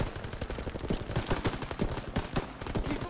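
Machine guns in Call of Duty: WWII fire in rapid, overlapping bursts, a dense stream of close gunshots with scattered heavier reports and no speech.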